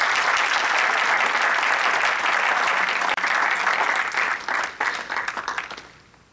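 Sustained applause from an audience at an Urdu Academy literary evening as the guest poet Rakhshanda Naveed is invited up, steady and dense, then thinning into scattered claps and fading out.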